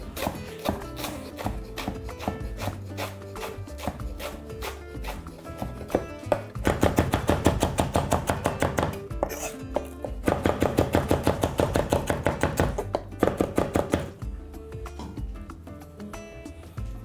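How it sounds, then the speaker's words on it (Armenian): Fresh coriander is chopped finely with a knife on a board for an eggplant and pomegranate salad, a fast, steady run of close, crisp knife taps lasting throughout with no talking. "կավելացնեմ նրան նաև մանր կտրատած համեմ"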